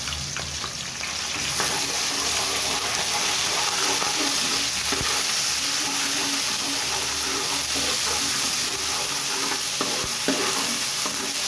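Onions with ginger garlic paste fry loudly in a hot pan for chicken bagara semiya, a dense continuous sizzle and hiss with scraping stir sounds throughout.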